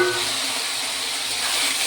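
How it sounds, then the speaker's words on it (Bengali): Chicken meat frying in oil in a home kitchen, a steady dense sizzle and hiss that holds evenly for the whole stretch, close and alone with no talking. "আমি মাংসটাকে আগে তেলের মধ্যে ভালো করে ভেজে নেব।"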